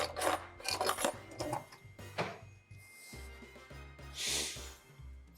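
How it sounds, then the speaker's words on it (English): Citrus fruit, orange and lime, scraped against a zester, with repeated quick rasping strokes up close, followed by quieter handling sounds and a soft rubbing burst. "Gotta get my zester."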